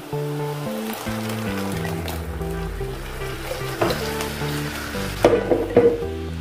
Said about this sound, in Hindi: अभी हम जो मिक्सी जार में पीसा था इसमें पत्ते का मिक्सचर वो इसमें डाल देंगे